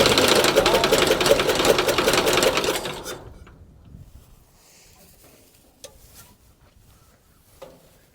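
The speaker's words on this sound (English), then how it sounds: "It sure idles better than it did the other day." A Ford tractor engine idles with a rough, rapid mechanical chatter for about three seconds, then dies away into near silence broken by a few faint knocks.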